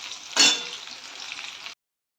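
Snacks fry in hot oil for teatime, giving a soft, steady sizzle that opens with a louder splash-like burst and then cuts off abruptly.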